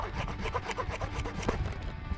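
A small hand pruning saw rasps through a fruit tree branch in quick, regular back-and-forth strokes, close by and moderately quiet, easing off near the end.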